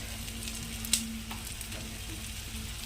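Taro frying in a pan with turmeric and salt gives a soft, continuous sizzle close by, with one brief clink or scrape partway through.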